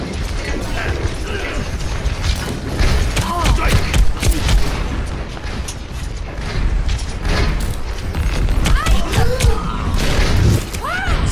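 Rapid turret gunfire in the Overwatch video game, a dense, loud mechanical clatter of bursts running nearly nonstop alongside game effects and impacts, with no pauses.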